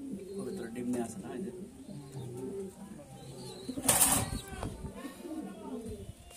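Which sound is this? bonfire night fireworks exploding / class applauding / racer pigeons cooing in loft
racer pigeons cooing in loft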